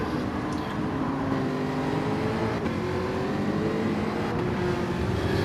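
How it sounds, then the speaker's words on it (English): A Jaguar Group 4 race car in a racing video game at Interlagos, Brazil, its engine holding a loud, continuous droning tone that rises slowly in pitch through a turn, with no voices over it. "here we come round the turn in the Jaguar Group 4"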